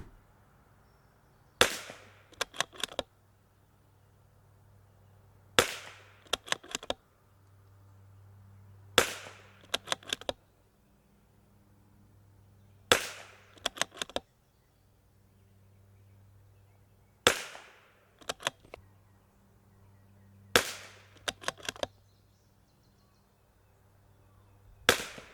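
A CZ457 MTR rimfire rifle with a Lilja barrel fires groups of shots. Sharp, fairly loud cracks come in small clusters of two or three, each cluster separated by a few seconds of near quiet.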